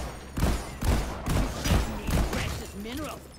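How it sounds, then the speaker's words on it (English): Weapon fire in Deep Rock Galactic, a co-op shooter: six or seven regular, punchy thumping shots about half a second apart, close and loud, with a faint voice near the end. "I'm shooting it."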